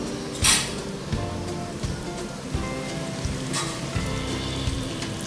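Cumin, garlic, mustard seeds and curry leaves fry in hot oil for a bitter gourd stick curry, a steady close sizzle with light popping and a sharp spatter burst near the start.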